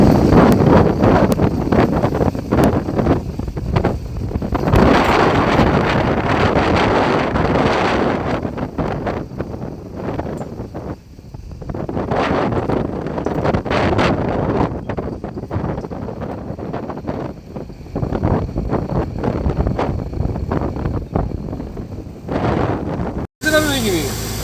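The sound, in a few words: strong wind and waves at the seashore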